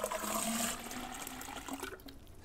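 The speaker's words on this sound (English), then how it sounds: "add some water." Water pours steadily into a 12-volt camping water-heating unit with an open lid, a close, fairly loud splashing flow that thins out toward the end.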